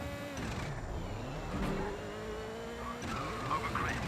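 A rally car races on tarmac in the video game Rallisport Challenge, with its engine whining in shifting pitch and tires squealing and skidding through corners, loud and continuous.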